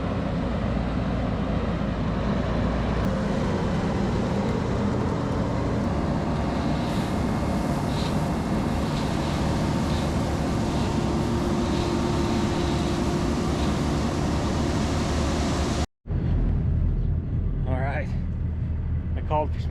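Sany excavator pulling off topsoil to reach rocky ground while clearing a lot, a loud, steady diesel engine drone with rumbling and scraping throughout, cutting out briefly near the end.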